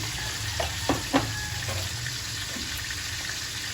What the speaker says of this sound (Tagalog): nagpiprito po tayo ng isda